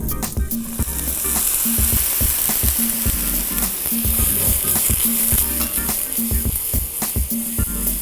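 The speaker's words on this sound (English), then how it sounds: "let's add a little bit of wine to the mix to release the flavor and get all those burnt bits" White wine poured into a hot pan for deglazing sets off a loud, dense sizzle and hiss that continues steadily, with stirring clatter and scraping close by.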